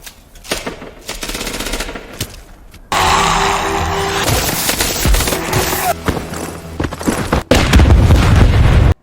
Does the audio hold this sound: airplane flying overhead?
no